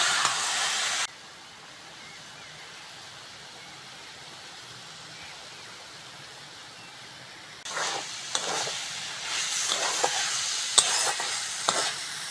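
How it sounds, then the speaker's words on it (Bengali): Tender red amaranth greens fry in a pan, with an opening burst of hiss, then a long quiet stretch before stirring resumes with close sizzling and scraping. "লাল শাক ভালো করে ভেজে নিয়েছি"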